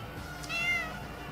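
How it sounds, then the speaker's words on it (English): A single short cat meow, moderately close and fairly quiet, rising briefly and then fading over a low background hum. "Don't make the cat yowl, Jay."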